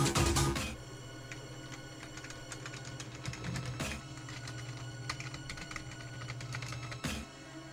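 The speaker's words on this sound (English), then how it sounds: "we're able to get the keyboard functioning" Rapid, steady typing on a computer keyboard driven by a Teensy 2++ controller in a camouflaged luggable PC, key clicks pattering continuously over a low electrical hum, with a couple of louder thumps.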